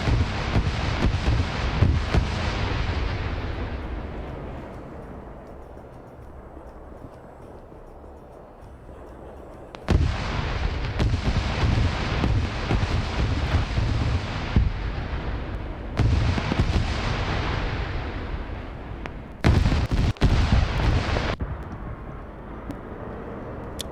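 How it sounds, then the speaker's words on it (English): Heavy barrage of gunfire and artillery in a large-scale multiplayer PvP military game, loud booming blasts and rolling rumble with bursts of sharp reports in clusters, dying away then erupting again, with no talk. "that's just a very nasty barrage of fire going in"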